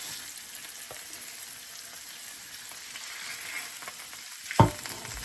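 Pork tenderloin browning in a hot pan makes a steady, close sizzle and crackle throughout, with one brief thump near the end as the meat or pan is moved.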